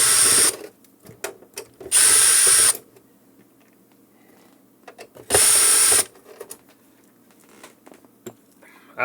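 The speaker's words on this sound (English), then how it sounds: "At the bottom there are screws that we need to open." Screws being driven out of the base of a Clear-Com HelixNet HMS-4X intercom with a power driver, three loud whirring bursts separated by quieter handling clicks and rattles, close up.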